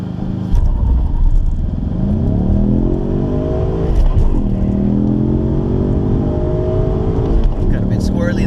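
A 2018 Ford Mustang EcoBoost launches on a quarter-mile run, engine revving hard with rising tones climbing through gear shifts, loud and close from inside the cabin, with brief dips between gears.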